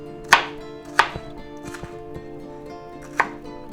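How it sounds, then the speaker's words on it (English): Ingredients for a ham and cheese omelet being chopped fine with a knife on a cutting board, four distinct crisp chops spaced irregularly, close and alone with no talk. "Now you want to just chop them up kind of fine."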